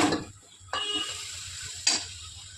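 Mutton goes into hot oil in a cooking pot, setting off short surges of sizzling that rise, fade and return in three close bursts, with faint clinks of stirring between them.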